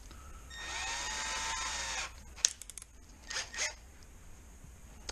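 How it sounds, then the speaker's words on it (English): Milwaukee M12 drill driver running in a short whirring burst of about a second and a half, close up, followed by clicks and rustling handling noises of the tool. "and grab my Milwaukee drill"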